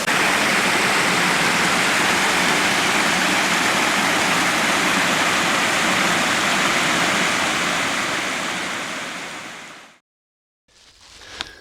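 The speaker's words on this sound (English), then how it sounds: "I have a nice cascading slide right here, and then drops off 28 feet down below." A waterfall on Jones Run, a cascading slide that drops about 28 feet, makes a dense steady rushing roar close by, then cuts off abruptly near the end before a faint return.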